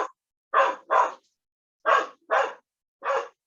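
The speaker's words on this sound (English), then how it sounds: "Can you hear my dog right now?" A dog indoors barks six times in short pairs, each bark clear and moderately loud, with silent pauses between the pairs.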